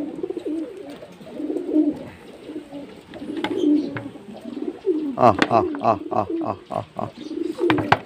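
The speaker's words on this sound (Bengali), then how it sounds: "ধান কেমন খাচ্ছে দেখুন পায়রা" Pigeons coo in repeated low calls while pecking at paddy grain, with soft bird noises and a few sharper fluttery sounds partway through.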